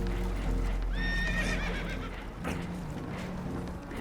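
Spooked horses whinny in a video game, one shrill rising neigh standing out over a steady low rumble of engine and water noise aboard a damaged boat, with no speech.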